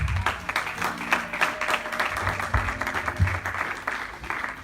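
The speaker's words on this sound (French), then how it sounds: "Est-ce qu'on peut acclamer sa parole?" A church congregation applauding together, dense sustained clapping with a few louder claps, steady throughout and fairly close, with a faint murmur of voices beneath.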